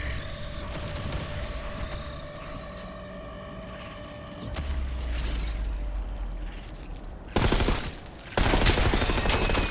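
Video game gunfire with clanking, creaking mechanical noise builds into dense rapid bursts, the last few seconds turning into loud, close volleys.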